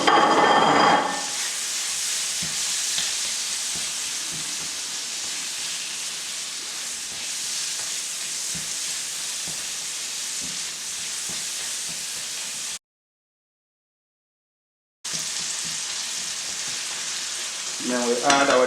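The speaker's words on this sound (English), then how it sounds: "Gonna split our salmon into little pieces now, and then add all our spices at the same time." Salmon broken into small pieces fries in a pan, a loud continuous sizzle with stirring scrapes, briefly cutting to silence before the hissing resumes; no one speaks.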